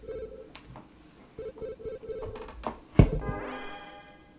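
A video phone call ringtone in a video game sounds as a repeating electronic trill in short even bursts, then a sharp thump and a rising chime sweep. It comes over a low background hum, with no talk.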